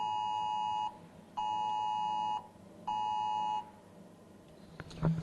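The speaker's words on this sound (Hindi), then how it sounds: "इमरजेंसी फ्लड वार्निंग का फीचर दिखाता हूं।" An emergency flood warning alert sounds on a mobile phone as three long, steady electronic beeps with short gaps between them, fairly quiet and without talking, ending in a brief soft knock.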